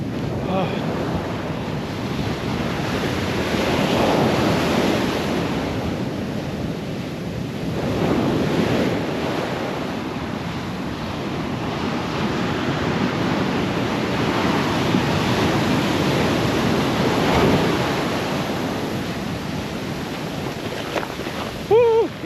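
Ocean waves roll onto a beach in Liberia, a steady loud wash of surf with swells rising and falling every few seconds, mixed with wind buffeting the microphone throughout.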